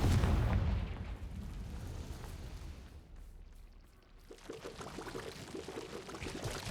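The Confringo fire curse from Hogwarts Legacy bursts with a loud, close whooshing blast at the start, then decays into rumbling crackle and a second rush of fiery noise a few seconds later.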